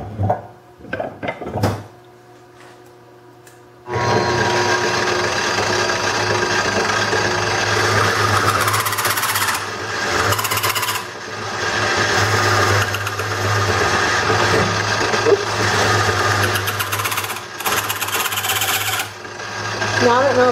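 A wood lathe hollowing a bowl blank runs with a steady loud hum and a scraping, rattling cutting noise that rises and dips in bursts, after a few knocks and a pause at the start.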